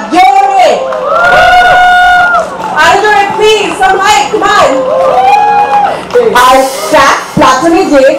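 A concert crowd at a Taste of Bangladesh 2024 show cheers and shouts loudly and continuously, with whoops and raised voices filling the space throughout.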